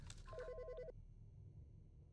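A phone in the game Autopsy Simulator gives one short burst of rapid trilling rings, clear but fairly quiet, then cuts off into near silence.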